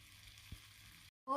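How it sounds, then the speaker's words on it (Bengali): River aair fish fries in a pan with a faint, even sizzle that cuts off abruptly, followed by a brief tonal sound. "অনেক সুন্দরভাবে কড়াকড়ি করে আগে ভেজে নিচ্ছি"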